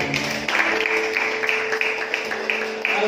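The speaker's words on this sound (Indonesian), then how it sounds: "Boleh gak kasih tepuk tangan dulu yang paling meriah bagi Tuhan?" A church congregation applauds, a steady wash of many hands clapping together for a few seconds, with faint sustained tones underneath.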